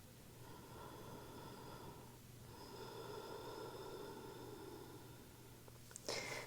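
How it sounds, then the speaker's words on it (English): Steady, audible Ujjayi breathing during a restful beginner yoga practice, long drawn airy breaths with a soft hum underneath, ending in a brief louder rustle. "Come back to that Ujjayi breath if you lost it."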